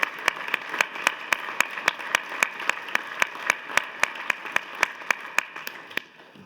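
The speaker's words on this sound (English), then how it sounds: "Give her a round of applause." Clapping from an audience at a 2017 State of the State Address for a 70th birthday, with sharp individual claps in a steady rhythm about three per second that stop after six seconds.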